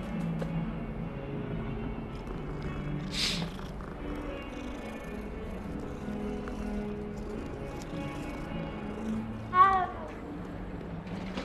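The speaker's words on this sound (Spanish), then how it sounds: "Gatito." A cat in the video game Hogwarts Legacy lets out a single short meow near the end, over quiet, continuous game ambience and music.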